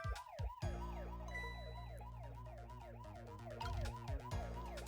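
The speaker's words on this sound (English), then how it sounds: "Okay, now turn the siren on." A wailing emergency siren switched on in the video game Ghost Trick: Phantom Detective, looping up and down steadily and loudly over the game's music, with no voices.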